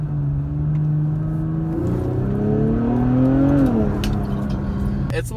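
Inside the cabin of a modified Infiniti Q50S with aftermarket intakes and exhaust, a loud steady engine drone rises in pitch, then drops as the driver downshifts, with the exhaust tone carrying clearly throughout.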